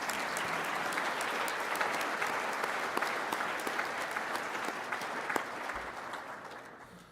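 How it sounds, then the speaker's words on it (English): Audience applause for a board of directors at an annual general meeting, a broad steady clapping from a large crowd that stays even and then slowly thins toward the end, heard from some distance. "Can you please give them a huge round of applause?"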